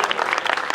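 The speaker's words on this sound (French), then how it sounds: "Merci de les applaudir" Dense applause from an audience at an Africa and Middle East social entrepreneurship prize ceremony, honouring award winners; steady, close, continuous clapping filling the whole brief moment without speech.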